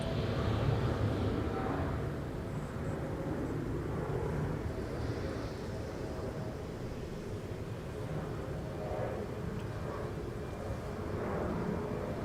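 A United Boeing 737 MAX 8 jet at Minneapolis–St. Paul airport on a winter day, a steady broad engine roar that holds at a constant level throughout, moderately distant with no speech over it.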